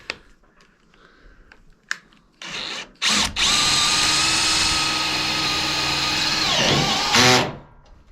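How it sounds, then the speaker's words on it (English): A power drill drives a self-drilling screw into a pre-drilled pilot hole, starting with a few clicks and short bursts, then a loud sustained whirring grind for several seconds that winds down and stops. "Now I try the self-drilling screw."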